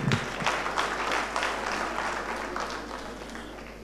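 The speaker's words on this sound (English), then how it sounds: "We can do better than that. A bigger round of applause." A bigger round of applause from a tax administration conference audience in Mandeville, Manchester, dense clapping starting strong and tapering off gradually over a few seconds.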